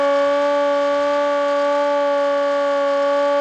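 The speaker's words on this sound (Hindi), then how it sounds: "तकरीब में सायरन बजाकर 1 मिनट की खामोशी इख्तियार की गई" A civil defense siren sounding at an Independence Day flag-hoisting ceremony held by police, a loud steady wailing tone that holds throughout without break.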